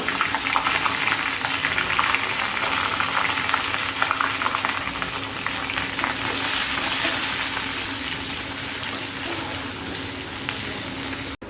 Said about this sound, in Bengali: কড়া পেঁয়াজগুলো ভেজে নিয়েছি।